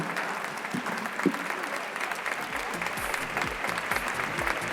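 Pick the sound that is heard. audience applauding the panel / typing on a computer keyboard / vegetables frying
audience applauding the panel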